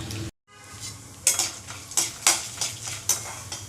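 Chana dal frying in a pan for a pirandai thuvaiyal, a close, steady sizzle with a series of sharp spoon scrapes and taps against the pan roughly every half second, after a brief drop to silence at the start.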